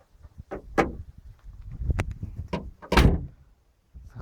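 A Renault Logan's hood is slammed shut, with a hinge previously knocking but now insulated. Several sharp thuds and knocks land over about three seconds, the loudest heavy slam near the end, then quiet.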